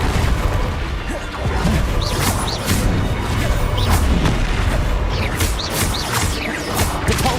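Confringo spell blasts in Hogwarts Legacy burst in a rapid string of loud, close booms and crackling impacts over a dense bed of combat noise.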